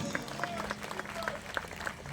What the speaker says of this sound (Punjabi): ਸੋ ਇੱਕ ਤਾੜੀ ਮਾਰਿਓ ਇਸ ਦਰਬਾਰ ਦੇ ਨਾਮ ਦੀ